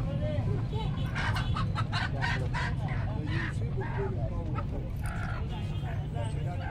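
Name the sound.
Aseel and desi chickens and roosters clucking at market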